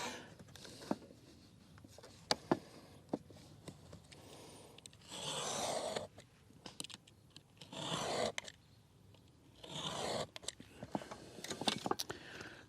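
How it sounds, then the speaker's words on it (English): A utility knife scores drywall along a square in several long scraping pulls, with rasping strokes between quieter gaps and small clicks of handling, close and moderately loud. "I like to use my square angle, and I just go along with a cutting knife."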